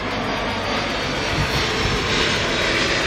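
A low-flying airplane passes overhead in Corsica, a loud, steady engine roar that fills the whole short stretch with no voices.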